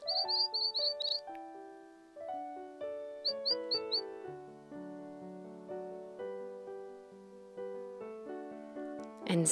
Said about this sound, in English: sometimes she sings beautiful songs for them.